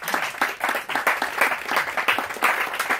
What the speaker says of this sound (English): So a big round of applause to you guys,